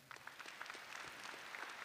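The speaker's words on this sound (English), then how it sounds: "Let's give them a round of applause now" Faint audience applause at a Glen Burnie High School commencement, a steady patter of many hands from a distance in a large venue.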